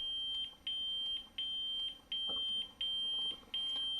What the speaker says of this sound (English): To get into the volume menu, it's a 2-second click on aux, and you should hear a beep